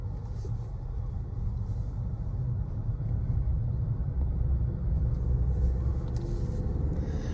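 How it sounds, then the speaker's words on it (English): Steady low cabin rumble of a 2025 Chevrolet Colorado ZR2 pickup truck on a road test drive, continuous and even with road noise throughout and no talking. "here we are test driving the Colorado ZR2"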